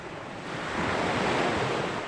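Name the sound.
ocean waves at sea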